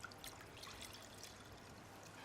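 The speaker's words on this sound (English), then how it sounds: "So adding the water into the pan" Water poured from a jug into a pan while making marshmallows, a faint, steady trickling splash with soft irregular spatters, heard quietly and alone.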